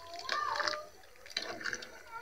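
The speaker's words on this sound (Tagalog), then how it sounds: "Ayan, buhusan niya ng tubig." Water poured into a macaroni salad preparation gives two short splashing bursts, with people talking over the pour.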